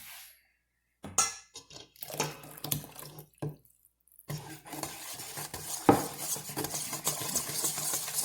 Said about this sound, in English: You mix that pretty well.